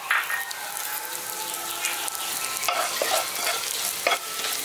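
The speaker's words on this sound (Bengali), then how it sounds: "জিরেটাকে হালকা একটু ভেজে নিচ্ছি" Whole cumin seeds fry in hot mustard oil with a bright, crackling sizzle close up, while a spoon scrapes and stirs the pan in a few quick strokes.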